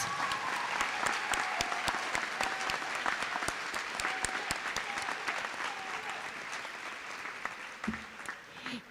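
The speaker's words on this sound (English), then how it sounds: "Let's give them a big round of applause." A banquet audience at a staff awards breakfast gives first- and second-year teachers a big, sustained round of applause, dense clapping from many hands that holds steady for several seconds before beginning to thin near the end.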